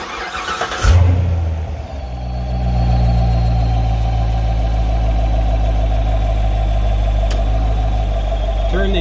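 A 2015 Corvette C7 Stingray after a coolant change cranks and fires up loudly, then settles into a steady, deep idle rumble for the rest of the time, close by with no talking.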